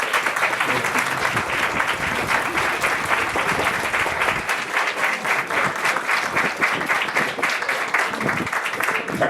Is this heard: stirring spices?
no